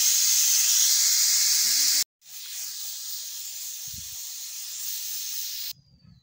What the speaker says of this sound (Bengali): রসুন দিয়ে দিলাম, রসুন